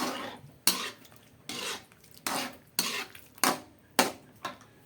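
Tomato sauce being stirred into pork mechado in a pot, heard as a run of seven or eight distinct, evenly spaced scraping strokes close by, each fading quickly, with quiet gaps between.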